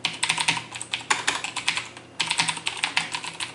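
Rapid typing on a CM Storm Quickfire TK mechanical keyboard, dense bursts of crisp clicky keystrokes close to the microphone, with a short pause midway before the clatter resumes.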